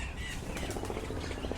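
Birds call in a zoo aviary at Taronga Zoo, with caws, squawks and chirps overlapping in a busy, moderately loud chorus and no talking.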